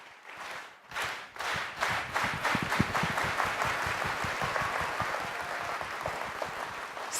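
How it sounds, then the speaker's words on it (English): Audience at a university César Chávez convocation performs the unity clap: slow, separated claps that speed up into a rapid, continuous burst of applause, loud and room-filling, with no speech over it. "Can we do the unity clap?"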